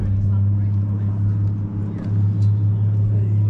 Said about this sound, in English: next up, this Nismo 350, possibly 370Z